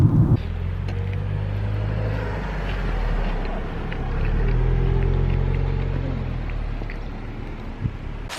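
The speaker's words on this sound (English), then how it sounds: "I'm just gonna drive the parkway for a little bit and figure it out" Car cruising along a parkway near Gatlinburg, heard from inside as a steady, loud low engine and road rumble that swells slightly midway and continues unbroken.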